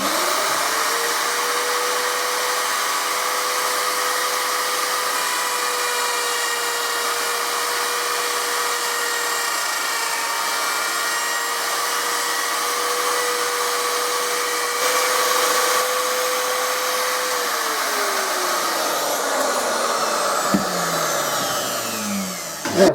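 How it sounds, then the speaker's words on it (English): A router runs continuously cutting an MDF template for a bass guitar neck mortise, a loud steady high whine that holds pitch, then drops and slows as the motor winds down at the end. "the router cutter itself will cut out a nice neat line following this template"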